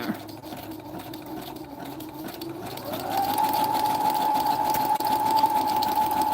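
A sewing machine stitches through paper and fabric close by. Its motor whirs steadily, then speeds up about halfway into a higher, even whine that keeps running to the end.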